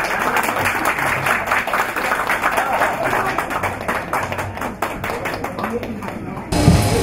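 Guests at a campaign launch banquet for a council district race clap for an honored attendee, a busy round of individual claps sounding over room noise before it cuts off abruptly near the end.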